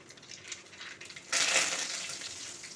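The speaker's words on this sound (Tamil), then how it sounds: "இப்போ கருவேப்பிலைய போட்டுக்கிறோம்" Curry leaves dropped into hot oil already popping with mustard seeds while tempering for cucumber sambar, a soft crackle that jumps into a loud, steady sizzle partway through and then holds, with no talking.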